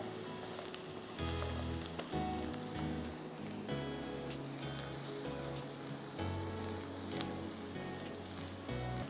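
Food frying in a pan on a cooking show, browning until golden: a steady, close, hissing sizzle runs the whole time, with a low musical bed underneath.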